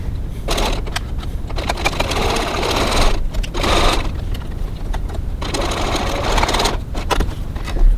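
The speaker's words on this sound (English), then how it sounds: "we're going to stitch down the side of the welt" A domestic sewing machine runs in steady bursts while top stitching along a wallet welt, a close, continuous mechanical whir that pauses briefly between runs.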